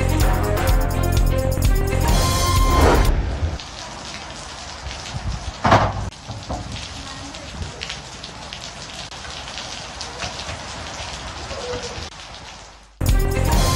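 Heavy rain pours down in Karachi, a dense continuous hiss of drops striking surfaces, with a brief sharper knock partway through and louder mixed sound at the start and end.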